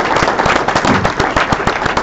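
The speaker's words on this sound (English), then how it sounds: "So let's give a round of applause to Tim." Audience applause at a pressure-washing trade session, giving a round of applause to Tim: a dense, steady wash of many hands clapping for about two seconds, loud and close, with sharp individual claps popping through the roar.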